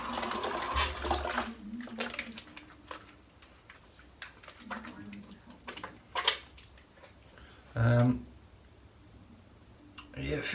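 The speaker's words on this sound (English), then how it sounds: "I'm going to dip my hands in the water and then just let it run about" Hands dipping into and swishing through water in a basin while testing the slickness of Oleo Soapworks Empire shaving lather: intermittent close sloshing and dripping, with one louder splash burst partway through.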